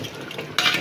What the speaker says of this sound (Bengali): খুব সুন্দর করে এটাকে নেড়ে নেব।